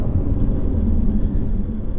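Inside a Nissan GT-R NISMO drag racing a Porsche 911 Turbo S and an Audi R8, a loud, steady low engine roar and rumble fills the cabin.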